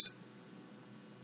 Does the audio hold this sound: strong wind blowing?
no